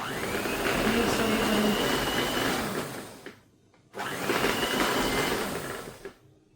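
A food processor mixing biscuit dough runs in pulse mode: two separate whirring motor bursts of about three seconds each, with a short quiet gap between them, close by and fairly loud.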